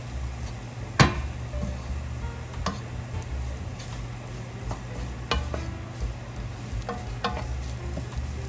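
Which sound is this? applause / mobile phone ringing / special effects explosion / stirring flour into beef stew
stirring flour into beef stew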